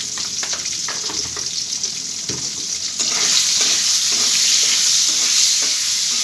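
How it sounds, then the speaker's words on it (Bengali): Taki fish frying with turmeric and salt in hot oil, a loud, dense sizzle that grows louder and steadier halfway through, with a few light stirring knocks and no voices. "আমি হলুদ আর লবণ দিয়ে ভালোভাবে একটু ভেজে নিব"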